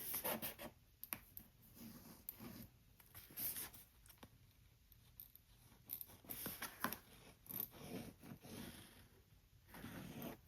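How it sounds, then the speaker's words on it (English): Pen strokes drawing lines along a measuring guide on fabric while sewing a travel pill pouch: faint, scratchy, intermittent rubbing strokes, close and quiet, with no talking. "we're going to draw lines on either side of the measuring guide"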